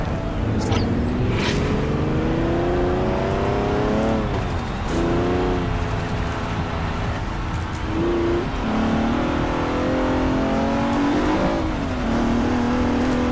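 A car engine in the Forza Horizon racing game revs and climbs through rising gear pulls, dropping at each shift and building again, loud and continuous throughout.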